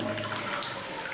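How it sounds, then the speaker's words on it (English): Hot water gushes steadily out of rock inside a volcano cave, a close, continuous watery rush with faint splashes and no voices. "So this water comes out of the volcano"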